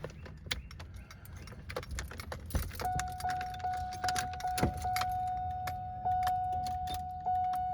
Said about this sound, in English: we're going to go ahead and start the car